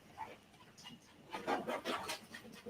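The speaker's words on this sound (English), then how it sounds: "If you guys hear a lot of panting in the background, my dog has the zoomies" Rapid panting from a little Yorkie terrier, faint at first and then growing into louder, breathy huffs close by.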